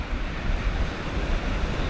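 Ocean waves break steadily at a beach in Florianópolis, a dense, continuous roar of surf with some wind noise on the microphone, loud and close, with no voices.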